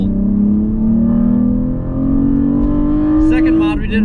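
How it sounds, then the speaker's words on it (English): Toyota Camry fitted with a Magnaflow exhaust revving steadily, the engine note rising slowly and holding loud and close for several seconds before falling back. "First mod we did is the Magnaflow Exhaust."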